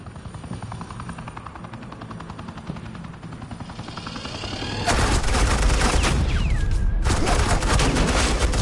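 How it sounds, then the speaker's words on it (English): Agent Quinn lays down suppressing fire in a video game, a helicopter thrumming underneath as dense, loud automatic gunfire suddenly erupts and keeps rattling continuously. "This is Agent Quinn, suppressing fire."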